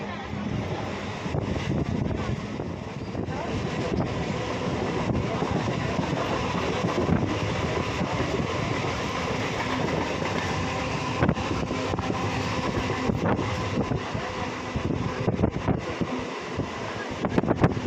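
Ambience near platform 9 of Tambaram railway station, with a steady, rumbling background wash and heavy wind buffeting throughout.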